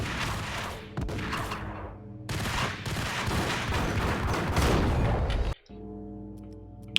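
Gunfire in Max Payne on Xbox, heard as a sustained loud burst of rapid shots that breaks off briefly and then returns. A harsh, dense rattle fills the scene and cuts out abruptly near the end, leaving a quieter tail.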